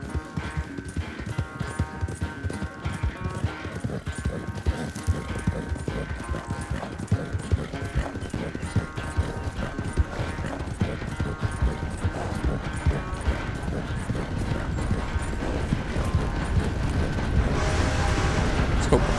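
Rapid hoofbeats of a galloping horse in the video game Red Dead Redemption 2 clatter continuously under faint background chatter and a steady tonal hum, growing louder toward the end.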